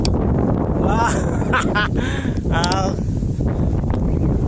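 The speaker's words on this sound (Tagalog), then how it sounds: "Uy, ang hangin." Strong wind on a mountaintop buffeting the microphone in a constant low roar, with a person talking intermittently over it.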